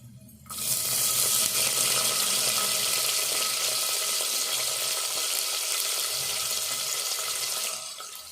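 Onions dropped into hot oil over a sizzling tempering for a ridge gourd curry. A loud, steady frying hiss starts abruptly and holds evenly for several seconds before easing off, with no talking.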